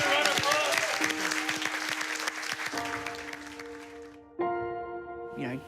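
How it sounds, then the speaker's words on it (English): A group applauding at a startup event, a burst of dense clapping that slowly thins out, with music tones and a voice running over it. "Give it a round of applause"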